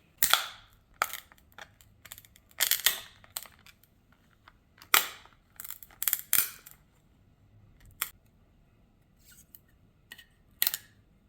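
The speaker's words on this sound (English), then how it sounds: "the main trick here with the vice grips is to hope that it causes the case to crack just by tightening them on there" Vice grips clamp down on a Beckett graded sports card's hard plastic slab until it cracks, giving a string of sharp, close snaps and clicks separated by short pauses, with no talking.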